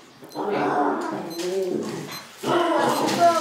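Two dogs squabble indoors, one giving low, throaty growls and whining vocal bursts in three close, sustained stretches with brief pauses between.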